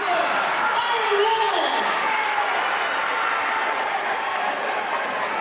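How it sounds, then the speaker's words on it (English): Crowd noise at a high school basketball game late in the fourth quarter, a steady broadband roar of cheering and clapping from the stands after a made shot, with a voice talking over it. "The crowd goes wild, even though they're down 40."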